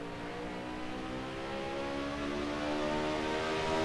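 Race car engine in Assetto Corsa, held near 250 km/h just before braking, a steady loud high-revving drone that climbs slightly and stays continuous throughout.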